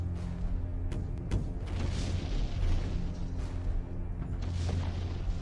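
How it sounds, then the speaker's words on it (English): Naval fleet bombardment with shell explosions: dull booms and bursts rolling under a continuous low rumble, several sharp impacts early and more through the stretch, dense and cinematic rather than distant. "A bombardment from the largest fleet the Navy has ever assembled."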